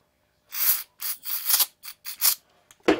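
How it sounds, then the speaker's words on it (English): A series of short, hissy spritzes from a spray bottle onto a blue shop towel, about six bursts in uneven rhythm, close and fairly loud, with a soft rub at the end. "I'm going to just spray it on here."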